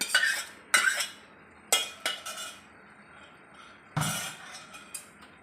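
Pressure-cooked mixed dal tipped into a pan over a high gas flame for a dhaba-style dish, with a series of sharp metallic spoon clinks and scrapes against the pan coming in bursts amid a quiet kitchen background.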